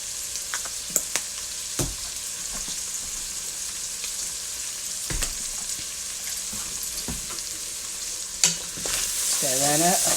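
Black-eyed pea and sausage chili is stirred in a pot over a low, steady simmering sizzle, with sharp spoon knocks against the pot and a rising bubbling near the end.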